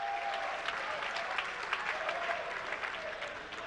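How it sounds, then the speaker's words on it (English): Audience applause for a school team at the 2019 National Science and Maths Quiz contest in Ghana: steady, dense clapping from a large crowd, sustained evenly throughout with no pauses. "I would like us to give a special clap for St."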